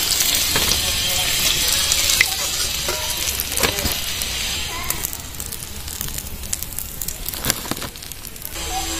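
Slices of ash gourd fry in hot oil with a loud, steady hiss and crackle. Scattered pops and occasional utensil clicks sound over the continuous sizzle.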